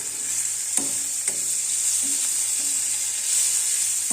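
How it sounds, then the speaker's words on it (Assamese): Dried fish that was boiled beforehand sizzles steadily in a pan, with a few sharp scrapes of a utensil stirring it at close range. "আকৌ সামান্য ভাজি ল'লোঁ।"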